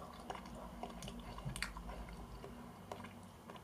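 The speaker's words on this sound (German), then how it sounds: "weiße Schokolade halt, und ich beiße hinein." Someone bites into a bar of Heilemann pistachio and salt white chocolate and chews it, soft close mouth sounds and small squishy bites at low level, no talking.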